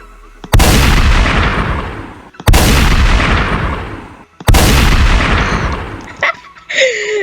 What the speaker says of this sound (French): il y a une fusillade, là